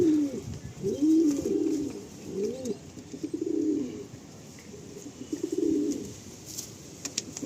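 Pigeons kept for sale at Sonarpur coo in a series of soft, throaty rolling calls, about five clear bursts close by, with faint background chirps and noise between them.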